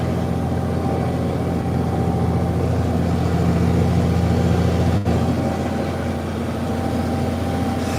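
A tractor engine runs in an orchard with a continuous, loud, low-pitched drone, broken by one brief clunk partway through.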